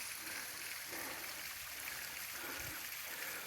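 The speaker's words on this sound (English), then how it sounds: "here we are at Little Cascade Falls with the water coming down there" Water tumbles down Little Cascade Falls on Mount Ascutney in Vermont, a constant rushing hiss with a gentle low gurgle, steady and close, no voices.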